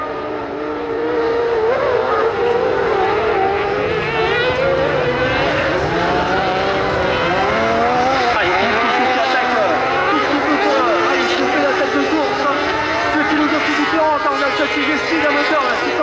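Kart cross racing karts with motorcycle engines, including a 600 GSXR and a Yamaha MT-09 in a JMS chassis, scream steadily around the track, rising and falling as they rev, loud and continuous under a commentator's voice.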